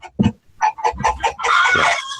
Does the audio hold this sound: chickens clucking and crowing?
yes